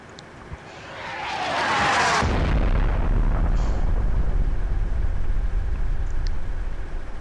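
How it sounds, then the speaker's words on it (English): A World of Tanks battle on the Malinovka map: a high-explosive artillery round whooshes in and bursts about two seconds in, followed by a sustained loud low rumble, with no talking. "Lots of high explosive rounds arcing overhead from the artillery."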